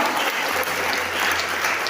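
A church congregation applauds and acclaims the Lord, dense continuous clapping filling the room with a faint hum underneath.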